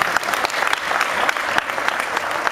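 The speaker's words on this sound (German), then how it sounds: "Applaus von meiner Familie" Family members clap at an amateur boxing match, a close, steady patter of many hands with sharper individual claps popping out.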